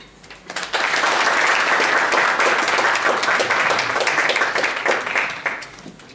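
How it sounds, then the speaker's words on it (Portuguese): Audience applause after an architecture and law lecture, dense continuous clapping that swells in after a quiet start and holds steady before tapering slightly. "Mais uma salva de palmas."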